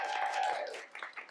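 Audience applause at a poetry slam, a dense wash of clapping that fades toward the end, with a few scattered claps lingering.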